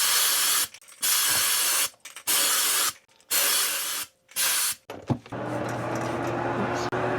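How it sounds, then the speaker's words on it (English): Tinning agent sprayed onto a fishing lure during chrome plating, heard as several loud bursts of spray hiss separated by short pauses, followed by a steadier lower hiss. "And then I spritz the tinning agent right on top of it."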